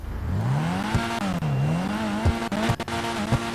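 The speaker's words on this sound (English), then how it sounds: "let's just give it a quick little rip of the engine just to hear how it sounds" The Uranus Lozspeed supercar engine in a video game revs up and down repeatedly, its pitch rising and falling in quick swoops, loud and close.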